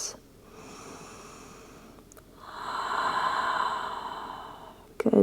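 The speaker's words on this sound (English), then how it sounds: "2 full breaths" Slow, deep full breaths during a yoga stretch: one long audible inhale, then a louder, fuller exhale swelling and fading, heard close with no talk.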